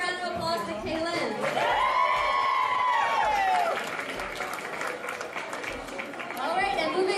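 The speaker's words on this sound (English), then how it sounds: "Let's give one more round of applause to Cailyn" An art event audience applauds an artist with sustained clapping and some cheers, while a voice carries on speaking over the crowd.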